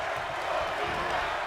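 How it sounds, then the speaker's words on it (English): Arena crowd noise from the WWE 2K22 wrestling game during an NXT match, a steady dense wash of massed voices chanting and cheering throughout, moderately loud with no distinct talk on top. "The crowd chanting"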